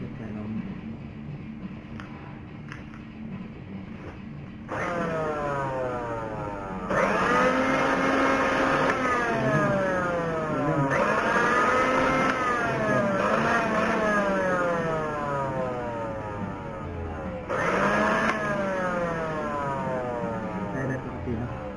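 A repaired fruit blender, its carbon brushes newly replaced, runs in loud bursts. The motor whine rises and falls in pitch over several cycles, with a person talking over it.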